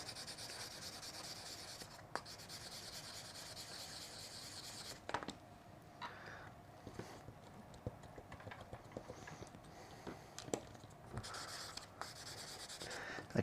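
Fine 800-grit sandpaper rubbing and polishing a small RC car rear suspension part, a quiet, steady scratchy scrubbing with short strokes and a few sharper ticks, no talk.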